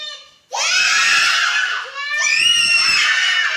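Loud, high-pitched shouting from young children during a classroom counting activity rings out in two long bursts close by, separated by a short dip.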